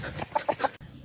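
A chicken clucks in three or four short close bursts, fairly loud against light background noise, before the sound cuts off abruptly.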